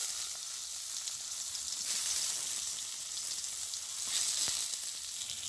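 Pieces of pointed gourd rubbed with salt and turmeric fry in a pan, giving a steady close sizzle that swells twice, with a light clink near the end.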